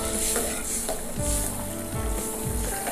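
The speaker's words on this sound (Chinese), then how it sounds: "咱们再放点水" Braising catfish sizzles and bubbles in a hot wok after water is added, a loud, continuous frying hiss with the scrape of stirring and a soft rumble beneath.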